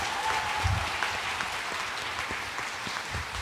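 Congregation at Mass claps during a homily at a future Santa Rita sanctuary, a dense, steady round of applause filling the church with no speech.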